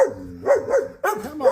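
Puppies bark in short, close, high-pitched yips, several quick barks in two bursts with brief gaps between them.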